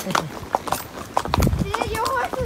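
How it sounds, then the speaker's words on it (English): A running horse's hooves clip-clop in an uneven rhythm of sharp knocks, fairly close, while people talk over them. "your horse is running"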